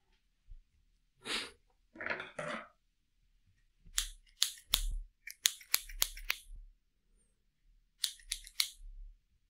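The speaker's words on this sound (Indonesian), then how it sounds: "aku ngegunting kain itu" Scissors snip through fabric in several short bursts, a few isolated cuts followed by a quick run of crisp snips and a final cluster, close and intimate in a quiet room with no talking.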